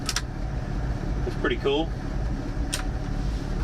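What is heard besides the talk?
1984 Dodge Ram D100 truck engine idling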